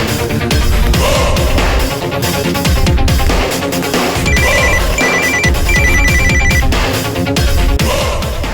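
A telephone rings loudly over a dramatic musical score in a Tamil television serial, the ringtone repeating in short bursts near the middle, with no speech.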